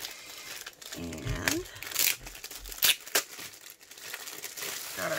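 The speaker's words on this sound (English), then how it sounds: "the bag comes in a plastic bag that has their logo." A plastic bag printed with a logo, holding a diamond art kit, crinkles and rustles in uneven bursts close by while a person talks over it.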